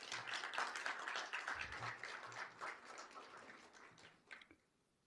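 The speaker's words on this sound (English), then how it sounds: "Can we give them a big round of applause?" A conference audience applauds youth leaders with steady, dense clapping that gradually fades over several seconds and stops abruptly near the end, leaving near silence.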